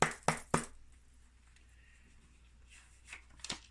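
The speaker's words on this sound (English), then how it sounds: "Cards were already pre-shuffled, but I like to mix them up again" Tarot cards get shuffled by hand, with three crisp riffling snaps right at the start and a couple more soft shuffles near the end, quiet and close with no voice.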